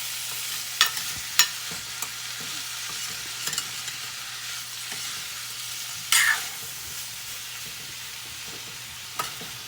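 Green bell peppers cooking in a pan with gram flour, stirred with a few sharp scrapes and clicks over a steady soft sizzle, close up with no talking.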